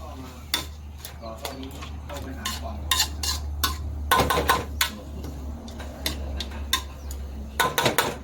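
A utensil clatters and scrapes against a pan in quick irregular strokes while stir-frying rat meat, near and fairly loud, over a low steady hum.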